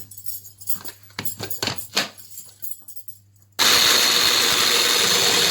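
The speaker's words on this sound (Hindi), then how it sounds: "इसी चॉपर में हम ऐड कर लेंगे लहसुन, सब्ज़ मिर्चें, थोड़ा सा सब्ज़ धनिया, ये ऐड कर लें।" Light clicks and taps of garlic, green chilies and coriander being handled, then an electric chopper abruptly switches on with a loud, continuous whirring grind.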